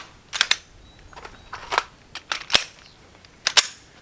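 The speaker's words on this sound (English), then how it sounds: "All right, Terry, go ahead and load." Handgun magazine loading during a combat reload drill: sharp metallic clicks and snaps, a few close, crisp transients scattered irregularly over a quiet background with no talking.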